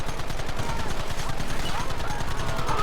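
Gunfire crackles in the video game Red Dead Redemption. Dense, rapid shots form an almost continuous fusillade, loud and close, with shouting voices mixed in.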